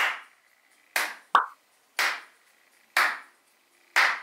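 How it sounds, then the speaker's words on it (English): Programmed handclap sample in a synth-pop song, sharp dry claps landing on a steady beat about once per second with one quick extra hit between, heard alone without other instruments. "All right, this is the claps."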